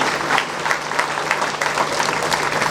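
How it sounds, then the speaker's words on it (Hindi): A hall audience claps to welcome Hilarius Kujur at a leprosy centre's golden jubilee celebration, a dense, steady burst of applause from many hands, close and full throughout. "हम सभी तालियों के साथ इनका स्वागत करें।"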